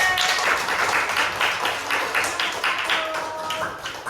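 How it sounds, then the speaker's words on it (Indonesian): Children clap together in a classroom after a lesson on Islamic religious education, a steady patter of many small hands at moderate loudness with no talking over it. "tepuk tangan anak-anak"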